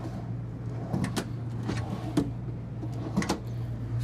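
A drawer in the bedroom of a 2025 Renegade Valencia 38BB Super C motorhome slides open and shut with a few soft thuds and scrapes. A steady low hum runs underneath.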